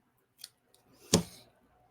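Scissors make a single crisp, close snip through loose strands, with a lighter click just before it.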